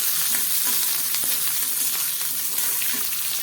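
Small onions and garlic cloves sizzle in a pan for drumstick leaf chutney, a steady dense frying hiss with faint stirring clicks, close and continuous without talk.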